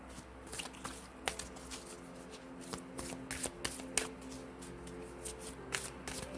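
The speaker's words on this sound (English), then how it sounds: "I'm going to pull a health card for you." Tarot cards are shuffled by hand during a card reading, a steady run of riffling, flicking and papery slaps, close and fairly loud with no talk over it.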